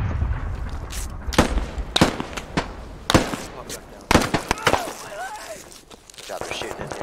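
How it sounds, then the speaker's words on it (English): Gunfire crackles through a tense firefight in the military shooter Squad, sharp cracks arriving in scattered bursts and single shots, some close and loud, others more distant. "they're shooting in here"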